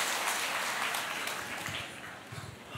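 A crowd at a live talk event cheers and applauds in a dense, continuous wash of clapping that stays loud and then eases slightly toward the end.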